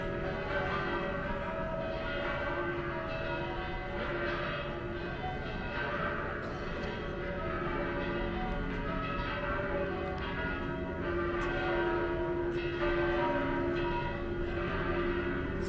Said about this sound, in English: Now you could actually hear the church bells.